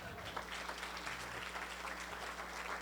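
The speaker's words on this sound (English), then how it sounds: "give yourselves a big round of applause" Audience at the Marin Promise Partnership Summit 2019 gives a steady round of clapping, continuous and fairly close over a low background hum.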